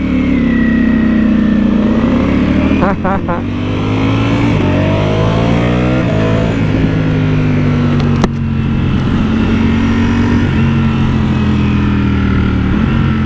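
A stock Lamborghini Streetfighter STO motorcycle engine runs loud and close throughout, holding a steady idle and rising into several revs with pitch swoops before settling back, with no one speaking over it.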